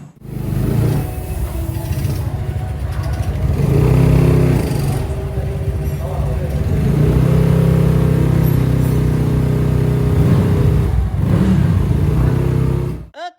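A Yamaha Mio Smile automatic scooter engine, lacking pulling power, revs hard and holds a loud, steady drone, rising and falling in pitch, close by with no talking.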